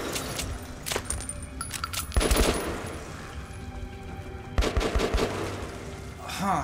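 Rapid gunfire in the shooter game Metro: Last Light, with bursts of sharp cracking shots, metallic clinks like spent casings or coins, and quieter gaps between the volleys.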